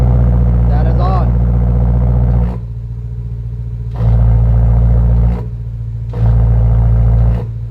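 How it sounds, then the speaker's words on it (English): BMW E90 M3 with exhaust valves toggled, idling with a deep steady rumble that drops quieter, then swells louder twice in alternating blocks; a brief voice-like tone early on. "so you guys can hear the exhaust"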